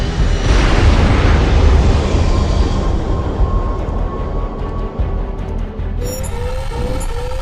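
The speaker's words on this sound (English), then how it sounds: "That explosion was no accident." A bombed aircraft exploding in the combat flight game H.A.W.X. 2, a loud roaring blast that rumbles and decays over several seconds, followed by lingering whooshing aftermath and high electronic tones near the end.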